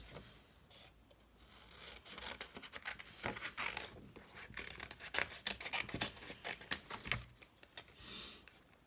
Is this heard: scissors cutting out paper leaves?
yes